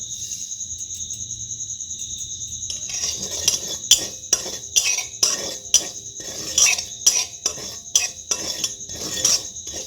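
Poppy seeds dry-roasting in a hot wok, stirred in a steady run of close, rhythmic scraping strokes that begin after a few seconds of quiet. A constant high, insect-like whine sits underneath throughout.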